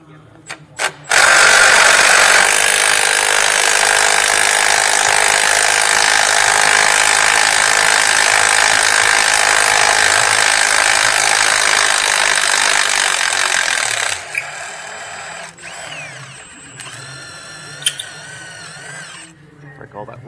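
A power tool whirs loudly and continuously on the lower control arm bolts of a second-generation Mercury Mariner or Ford Escape, then stops, leaving quieter clicks and metallic rattles of work.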